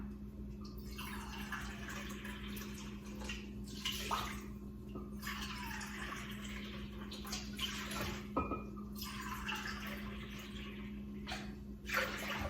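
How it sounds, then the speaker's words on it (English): Water poured into a medium-sized pot on a stovetop, a steady splashing stream that runs for several seconds with a few louder splashes, set against a constant low hum. "And then we will add 3 cups of water to the pot."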